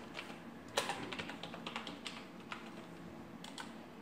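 Typing on a computer keyboard while a loan amount is entered, a quiet run of quick uneven keystrokes with a sharper tap near the start and a few more toward the end, no voices.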